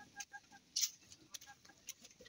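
Hens cluck inside a chicken coop in short, quiet bursts, with one louder, sharper squawk partway through, close by and heard alone without talk.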